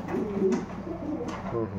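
Breeding pigeons coo in a loft, a low rolling murmur close by with soft wing or body rustles and a faint voice in the background.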